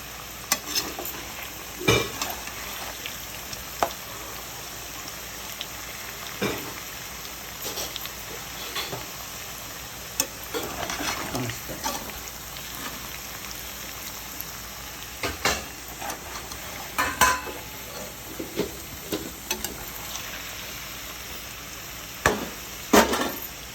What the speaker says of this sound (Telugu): ఆలుగడ్డ ముక్కలు ఇలా వేగాక చూసారా కాస్త బ్రౌన్గా అవుతుంది